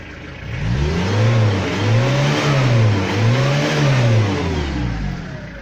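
Renault R30 car engine revved repeatedly while stationary, rising and falling in three smooth swells, loud and close with no talk.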